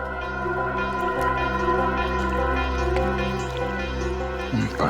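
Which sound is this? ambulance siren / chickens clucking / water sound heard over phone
water sound heard over phone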